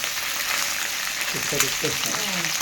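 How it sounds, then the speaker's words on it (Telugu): Okra masala frying in a pan gives a steady broadband sizzle throughout, with a voice speaking briefly over it near the end. "ఇదండి మంచిగా కొంచెం ఫ్రై చేసుకోవాలి బాగా కొంచెం మెత్తబడేదంట"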